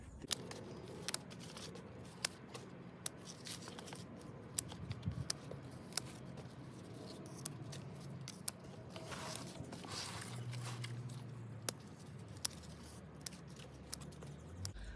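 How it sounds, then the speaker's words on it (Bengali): Sharp scissors snip the lower leaves from an eggplant plant, a series of faint, crisp clicks spaced about a second apart against quiet outdoor background. "প্রথমে আমরা মিনিমাম 6 ইঞ্চি নিচ থেকে যত পাতা আছে এগুলোকে আমরা কেটে ফেলি।"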